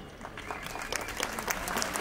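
Festival audience applauding at an outdoor concert of the Munzur Culture and Nature Festival, a steady dense patter of many hands clapping that builds slightly, heard from a distance.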